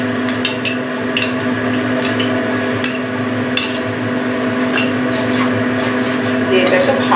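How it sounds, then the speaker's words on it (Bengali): A spoon stirring yogurt gravy in a pan for dahi paneer, with repeated clinks and scrapes against the metal at an uneven rhythm over a steady hum. "দিয়ে এটাকে ভালো করে গ্রেভিটাকে নাড়াচাড়া করবো।"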